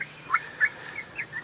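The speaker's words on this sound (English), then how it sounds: "there are the two turkeys" Farm turkeys call in a few short, faint bursts spaced apart across quiet outdoor background, with no talking.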